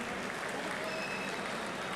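After a state title boxing bout, the crowd applauds the losing fighter with a steady, fairly faint hiss of clapping heard from some distance in a large venue.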